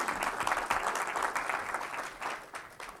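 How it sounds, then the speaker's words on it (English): An audience at a university event applauds with steady, moderately distant clapping from many hands that gradually tapers off toward the end. "So let's just give him applause and clapping."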